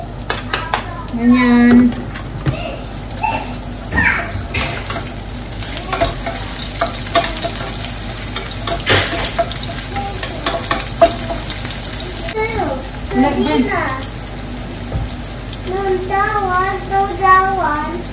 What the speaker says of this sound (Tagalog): Mainit na yung mantika natin, ilagay ko na tong sibuyas.